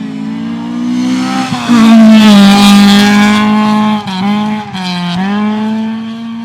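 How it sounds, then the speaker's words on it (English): A rally car with a BDA engine races past on a special stage of the 2021 Lone Star Canterbury Rally. The loud, close engine note revs hard, dips briefly through gear changes, then pulls on at high revs. "There's that sound again, Grant, of a BDA"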